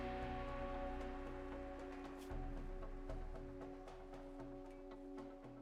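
Rain in the colony-building game RimWorld, a soft steady patter of drops heard faintly beneath sustained musical tones of the game soundtrack.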